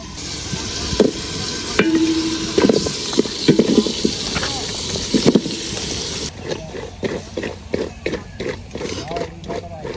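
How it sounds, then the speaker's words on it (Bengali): Winter vegetables tossed with spices fry over a new clay stove, with loud irregular stirring scrapes and sizzling, and a voice speaking at points. "মশলাটার সাথে সবজিগুলার একটু ভালো করে মিশাই নিতেছি"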